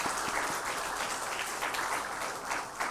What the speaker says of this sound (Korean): 우리 각 소그룹 팀장님들 또 많은 분들께 박수 한번 보내드리도록 하겠습니다